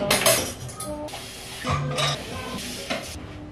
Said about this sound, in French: Fait qu'il faut que je vide la vaisselle